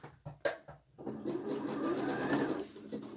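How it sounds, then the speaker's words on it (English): A domestic sewing machine runs a narrow zigzag stitch around the top of an upcycled t-shirt, starting after a few short clicks and then whirring steadily and close for about two seconds before slowing to a stop. "I'm going to press those seams down and stitch around the top now."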